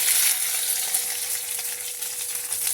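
Garlic and green chilli frying in hot oil, giving a steady bright sizzle with faint crackles, close and continuous with no talking.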